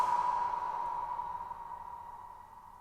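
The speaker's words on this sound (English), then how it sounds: "it's acting like there's a shimmer effect in there." Shimmer-like ringing overtone from the Airwindows Feedforward Reverb plugin at its smallest reverb size, a bright sustained tone that slowly fades over a faint tail.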